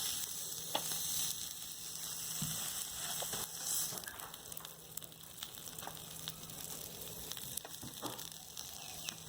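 Shrimp sizzling on an electric grill hotpot, a steady close frying hiss with faint crackles and pops running throughout, no talking.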